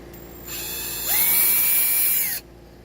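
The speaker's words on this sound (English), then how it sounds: "I got a 7/16 inch drill bit." A power drill with a 7/16 inch bit, held by hand, whirs steadily, then climbs to a higher, louder pitch as it bites into a bunk bed ladder bracket for about a second and a half before stopping abruptly.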